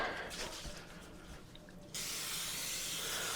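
A short hiss of baking spray starts abruptly partway through and continues steadily, close by, after a quieter stretch of faint background noise.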